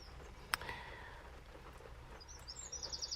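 Faint, high chirps and twitters from small birds come in short bursts near the end, following a single sharp click, in a quiet room.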